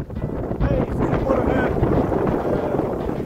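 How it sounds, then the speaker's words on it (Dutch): Strong wind gusting to 25 knots while sailing in the dark, buffeting the microphone in a continuous roar, with rushing, uneven gusts and a voice faintly mixed underneath. "Nog steeds af en toe windstoten van 25 knoop wind."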